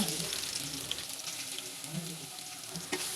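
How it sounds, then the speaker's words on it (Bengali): Chopped ginger and garlic paste fry in hot oil in the same pan used for onions for a home-style chicken biryani, giving a soft, steady sizzle with faint stirring scrapes. "একই তেলে আদা কুচি দিয়ে দিব তারপর রসুনের পেস্ট দিব"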